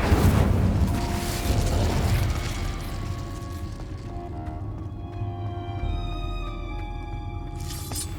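An Incendio fire spell from Hogwarts Legacy: a loud whooshing burst at the start that fades into a long ringing, shimmering tail over a low rumble, ending with a faint hiss.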